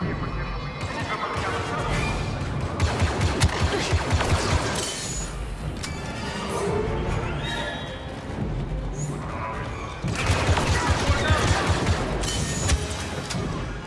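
Rapid blaster fire crackles through a Star Wars Battlefront II battle, dense bursts of shots over rumbling background noise and shouting voices, loudest near the start and again toward the end.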